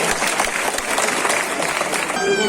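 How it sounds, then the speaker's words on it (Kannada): An audience at a 104th birthday celebration for a midwife breaks into sustained, fairly loud applause, a dense wash of clapping that fades slightly toward the end. "ನಿಮ್ಮ ಆಶೀರ್ವಾದದ ಚಪ್ಪಾಳೆ"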